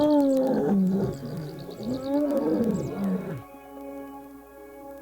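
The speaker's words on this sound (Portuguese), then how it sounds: "Durante o rugido, o ar possui uma cavidade maior para vibrar, produzindo um som alto e penetrante" A lion roars in deep, loud, rumbling bursts that rise and fall over about three seconds, then gives way to a quieter tonal background.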